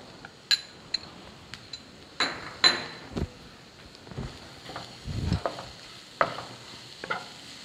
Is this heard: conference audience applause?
no